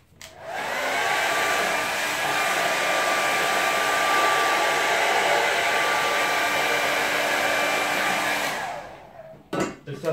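A hair dryer blows steadily at close range for about nine seconds to quick-dry a watercolour landscape painting, its loud even whoosh and motor whine cutting off abruptly, followed by faint handling noises.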